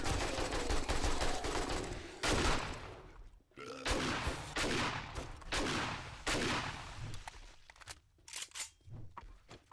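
An AK rifle blasts away in the video game 7 Days to Die in loud, dense bursts of automatic fire. Brief pauses and sharp single shots break it up, and it ends in choppier, scattered volleys.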